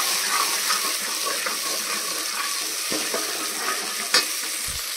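Hot oil sizzles loudly and steadily in a pan as water is poured in, giving a continuous hiss with a few sharp clinks.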